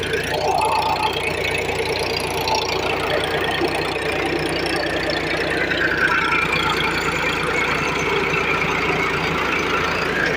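A tractor engine runs steadily while a rotavator ploughs a rice field, a loud continuous rumbling drone with a knocking texture that holds throughout without pause.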